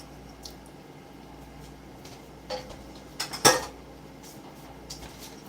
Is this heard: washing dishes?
yes